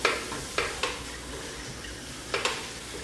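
A spoon stirs eggplant caponata with green onions, fresh ground pepper and salt in a pan. Soft, close scraping and stirring sounds are punctuated by a few sharp clicks against the pan.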